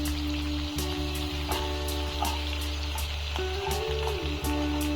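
Soaked cumin seeds fry in a pan with a steady, close sizzle and soft crackle, continuous and fairly loud throughout, with a few faint clicks and no talking.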